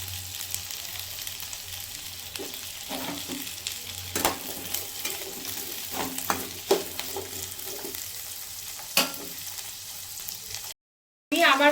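Vegetables and onion fry in a pan with a steady sizzle while a utensil scrapes and knocks against the pan at irregular moments, then briefly cuts to silence near the end.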